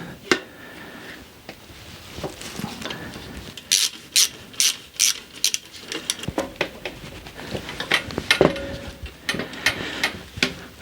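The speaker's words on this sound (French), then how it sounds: "C'est pas normal de devoir forcer autant comme ça pour visser là-dedans." A part is forced in by hand with a ratcheting tool, producing bursts of close, sharp mechanical clicks that come in uneven runs with brief pauses between strokes.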